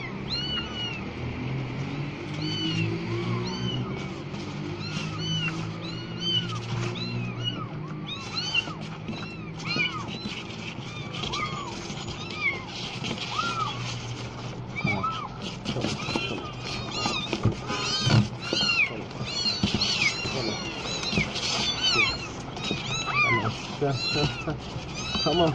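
Abandoned, hungry kittens meowing nonstop in many overlapping high, insistent cries, close and loud, with a person talking throughout.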